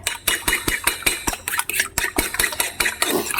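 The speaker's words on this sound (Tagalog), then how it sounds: "Batihin yung itlog" Eggs being beaten for French toast with a utensil clattering against a bowl in quick, steady rhythmic strokes, close and fairly loud, with no talking.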